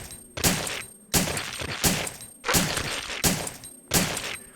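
Gunfire from the video game Resident Evil 3: Nemesis comes as six loud, evenly spaced shots, each a sharp blast with a short decaying tail, fired at a steady rhythm of roughly one every 0.7 seconds.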